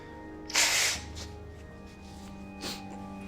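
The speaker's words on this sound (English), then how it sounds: "And now I need to blow my nose." A person blowing their nose, one sharp forceful blast close to the microphone followed by a shorter, softer second puff.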